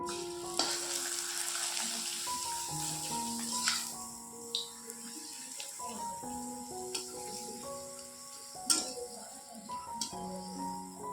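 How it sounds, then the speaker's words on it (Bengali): Soft crackling sizzle of papad frying in hot oil, with scattered pops and light clinks of utensils, fairly quiet and close. "চলো আমি একে একে পাঁপড় ভেজে নিই"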